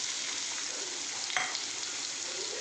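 Onions sizzle in hot oil with green chillies for dudhi bhaji, a steady broadband frying hiss with a brief stirring scrape partway through, close and continuous with no talk.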